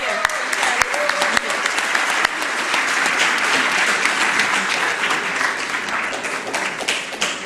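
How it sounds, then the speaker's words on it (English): Sustained, dense audience applause for a panel at the close of a live-streamed conference session, many hands clapping steadily at full strength for the whole stretch with a few sharper individual claps on top. "One last round of applause for the group."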